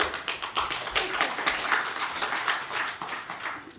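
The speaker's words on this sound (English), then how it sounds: "Thank you for the applause." An audience applauds at a workshop, a steady dense patter of many hands clapping close by for about four seconds with no voices over it.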